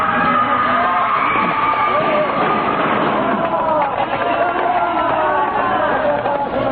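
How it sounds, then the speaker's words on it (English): Radio drama effect of a hysterical mob sweeping through the streets under mounted police with lashing whips: a loud, continuous roar of many shouting voices, steady and dense throughout, with no distinct single speaker. "hysterical mob sweeps through the streets, driven on by the lashing whips of the mounted police"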